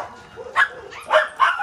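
Corgi dogs barking at a breeding kennel, three or four sharp yappy barks close by with faint background noise between them.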